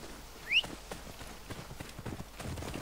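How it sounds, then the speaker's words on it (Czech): Quiet horse hooves clip-clopping in a steady rhythm while riding in the Assassin's Creed Origins video game, with a brief high chirp near the start and low game ambience. "zase ten kůň"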